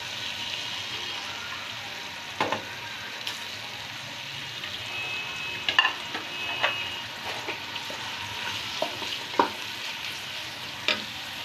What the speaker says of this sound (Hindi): तो ये प्याज हम ब्राउन कर लेते हैं।